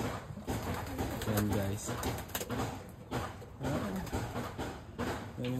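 Pigeons coo softly in a stock loft holding reserve birds, a steady low cooing under someone talking close by.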